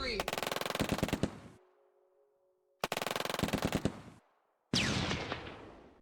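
Video game troops open fire, with loud sustained machine-gun bursts in two long volleys separated by silence, followed by a decaying heavy blast.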